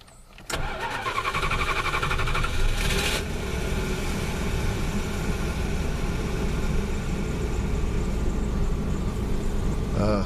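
A 1987 Plymouth Gran Fury with a stalling problem cranks briefly and catches, then settles into a steady, loud, close-up engine run with no talking.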